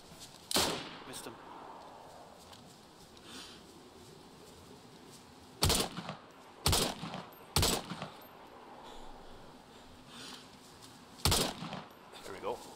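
Sharp rifle shots ring out in the survival game DayZ, about six loud, isolated cracks spread across the scene with quiet gaps between them, while players talk quietly in the background.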